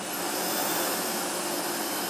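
A Sebo E3 Premium vacuum cleaner runs at low suction, producing a loud, steady airy roar and whine that holds unchanged throughout, close to the listener with no voices.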